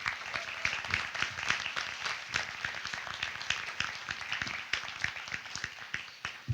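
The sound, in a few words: graduation audience applauding the class advisors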